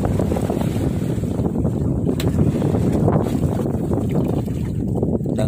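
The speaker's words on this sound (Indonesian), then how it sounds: "kencang kayaknya anginnya." Strong wind roars at sea aboard a fishing boat in rising waves, a loud constant buffeting rush with microphone wind noise and a low rumble throughout, no one speaking.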